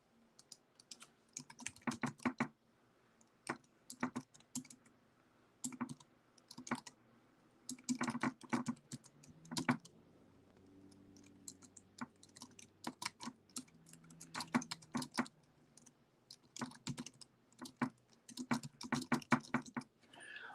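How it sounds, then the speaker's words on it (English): Bursts of computer keyboard typing come in uneven clusters of rapid key clicks with short pauses, close and moderately loud, while a baseball game simulation is updated; a low hum sits underneath throughout. "All right, so boy, I can't type at all tonight"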